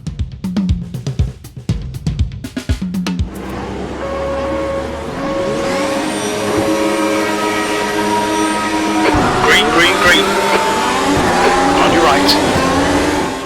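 Formula-style race cars launch from a standing start at a Spanish circuit in the Automobilista 2 racing game, a field of engines climbing through loud, rising revs and upshifts together, with clicks and blips before the roar builds and holds.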